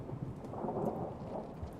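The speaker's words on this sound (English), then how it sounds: "you'll hear lightning in the distance" Low distant thunder rumbles steadily through a stormy ambience in the Rain World video game, a soft continuous roll with faint rain texture and no voices.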